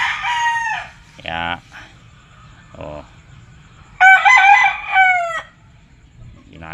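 A young rooster (stag) on a farm crows loudly and close, two long harmonic calls with shorter clucks between them, while someone talks quietly underneath.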